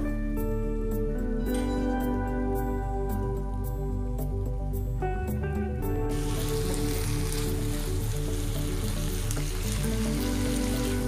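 Groundnut masala mixture bubbling and simmering in a pan, a steady soft sizzle and wet bubbling over a continuous low hum, with music-like tonal layers running underneath throughout.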